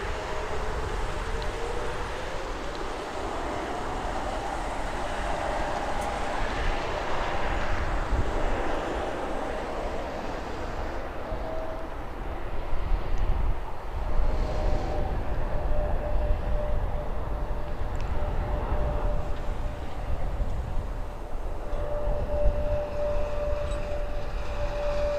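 A Republic Airways airliner at Toronto Pearson Airport on a Friday night gives a steady, broad engine roar with a faint whine, loud and continuous throughout and swelling slightly in the second half.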